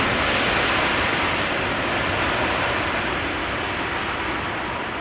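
Boeing 777-200 airliner arriving at Amsterdam Schiphol Airport, a steady loud broadband jet roar that holds level throughout with no talk.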